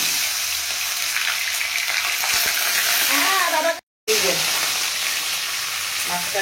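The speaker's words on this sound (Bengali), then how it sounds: "এবার মাছটা ভাজি।" Small parshe fish pieces fry crisp in hot oil in a pan, a loud, close, steady sizzle interrupted by one brief silent cut, with occasional crackles and faint background voices.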